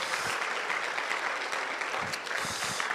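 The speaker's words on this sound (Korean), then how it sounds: "다시 한번 하나님께 감사 영광의 박수." A church congregation at a Korean worship service claps continuously and evenly throughout, a dense wash of applause with no voice above it.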